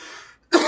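A short cough or throat clearing from someone with a bad cold, one brief faint rasp that fades, a gap of silence, then a louder burst.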